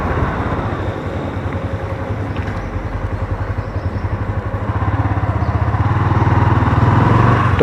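A Honda motorcycle, a CB250F or CB150F, being ridden, its engine giving a loud, steady, pulsing drone close up that builds slightly toward the end, with no talk over it.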